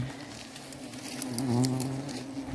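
Bees buzz around a freshly harvested honey nest in the open, with a steady close hum and a few louder passes near the middle, and no talking.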